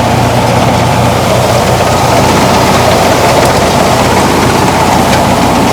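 A new 2024 Kubota 5502 tractor engine running steadily, a loud continuous close rumble with no talk over it.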